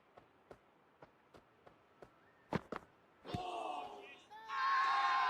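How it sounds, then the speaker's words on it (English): Players of the Gujarat Titans cricket side let out a loud appeal shout during a match against Chennai Super Kings, a sudden burst of yelling voices after a few sharp knocks, followed by a swelling crowd roar. "The Titans with a massive shout."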